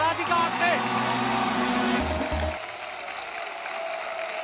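A studio audience on a comedy talk show applauds to welcome guests Saif Ali Khan and Radhika Apte, with loud clapping mixed with music for about two seconds before it drops away to a quieter background.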